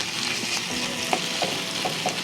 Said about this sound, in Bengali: আদাটা আপনার হালকা হালকা ভাজা হয়ে যাবে